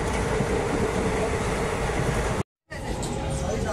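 A passenger train on a trip from Punjab to Delhi rumbles steadily with loud, continuous rolling noise that cuts out briefly before resuming.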